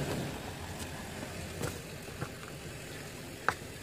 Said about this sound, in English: That diesel noise you hear in the background is a construction worker that is